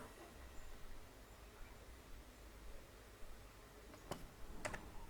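Fingers type on a computer keyboard while entering router configuration commands, soft scattered key clicks over a quiet hiss, with a sharper cluster of taps near the end.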